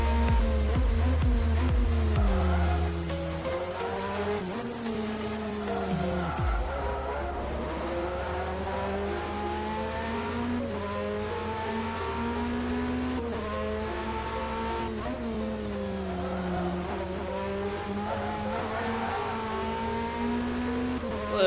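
A sports car in a sim racing game drifts through corners, tires squealing in long wavering tones over a steady engine drone that dips and climbs as it slides, with no talk.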